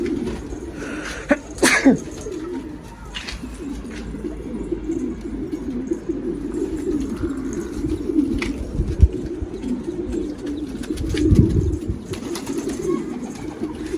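Pigeons cooing steadily in a low, throaty drone, with a sharp flutter or sneeze-like snort near the start and occasional scuffles and clicks close by.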